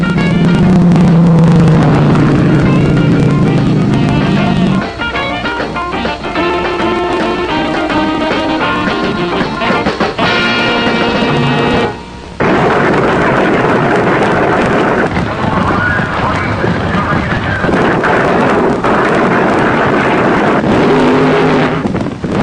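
Vintage drag racing run at full roar with a Keystone-sponsored car blowing its engine halfway down the strip; loud, continuous engine and wind noise with shifting pitch, a brief dropout near the middle, then sustained racing roar.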